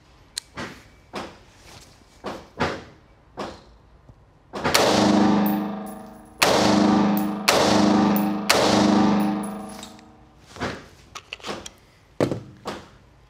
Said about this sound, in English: let's go ahead and shoot some 55 grain, full metal jacket